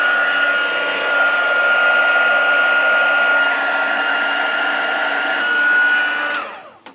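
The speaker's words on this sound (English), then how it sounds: "Now I'm going to just use my heat tool to set this, and you'll see the colour start to change" A heat tool blows and hums steadily and loudly while melting clear embossing powder on a handmade card, a constant airy whoosh with a tonal whine that cuts off at the end.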